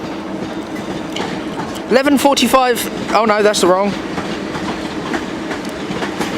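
A South Western Railway train pulls into London Waterloo, its steady rolling rumble and rail noise continuing under someone talking nearby.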